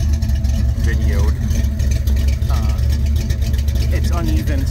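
A Chevrolet C3 Corvette engine now fitted with headers instead of log manifolds runs at a steady, slightly uneven idle, loud and close, with a continuous throaty rumble and faint voices mixed in.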